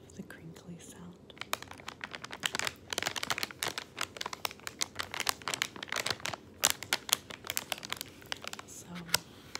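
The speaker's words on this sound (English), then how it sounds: "I'm a huge fan of the crinkly sound." Crinkly plastic bag being handled and crumpled close up, a dense run of sharp crackles and rustles in irregular bursts, fairly soft and intimate, with faint whispering underneath.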